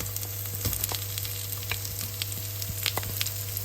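Onions and garlic fry in hot mustard oil, a steady close sizzle with scattered crackles and pops and a constant low hum underneath, no voices.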